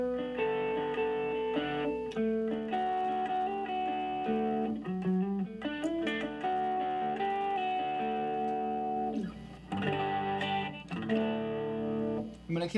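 Electric guitar played through a pedalboard into a Fender ProSonic Tweed amp: clean, sustained chords and single-note lines with modulation shimmer, strummed in phrases with short pauses, clear and close.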